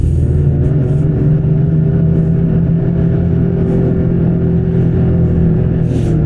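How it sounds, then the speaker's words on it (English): A Lynx snowmobile rips across rough, whooped-out bumpy snow, its engine droning steadily and loudly with a low, constant rumble close by and brief hissy bursts on top. "Even when you get it into the whooped out junk like this, you can really rip over it."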